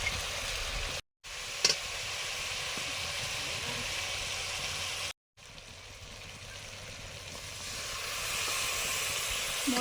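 Spice paste of ground melon seeds, poppy seeds, cashews and raisins hisses steadily as it is fried in a pan, with a constant broad sizzle through the clip and two brief drop-outs.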